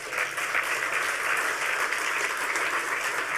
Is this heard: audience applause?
yes